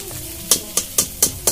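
Onions fry in a pan with a soft sizzle, broken by five evenly spaced, sharp spatula scrapes close to the mic.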